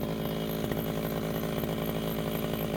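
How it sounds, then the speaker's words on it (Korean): A motorized grass cutter roars continuously and close up while trimming weeds along a rice paddy levee, its engine droning at a steady pitch with a buzzing, chainsaw-like edge and no voices. "논두렁 있는 풀을 잘라주어서 논의 모서리에 있는 벼들도 햇빛을 잘 받아서 익을 수 있게 잘라주고 있고"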